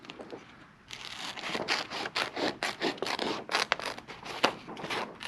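Rapid snipping and crinkling as scissors cut through paper, a steady run of short rasping strokes close to the ear, without talking.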